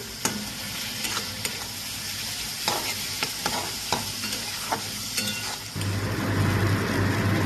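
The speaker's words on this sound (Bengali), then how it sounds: "এই মশলাটাকে আমি কষাবো ভালো করে এটাকে আমি ভালো করে কষাচ্ছি" A thick spice paste for egg curry sizzles in a pan while a spatula scrapes and taps against the metal in irregular strokes, then the frying grows louder and steadier.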